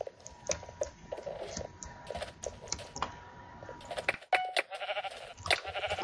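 Sheep bleat in Minecraft on the Mineplex server, several short close bleats mixed with rapid clattering computer-keyboard typing.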